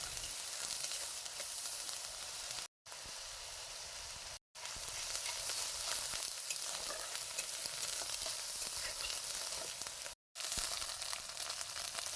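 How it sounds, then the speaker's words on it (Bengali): Ginger-garlic paste with bay leaves fries in oil in a wok, giving a steady, bright, close sizzle that fills the whole stretch. The sizzle cuts out abruptly in three brief gaps, and there is no talking. "মশলাটা আমি ভালোভাবে ভেজে নিয়েছি"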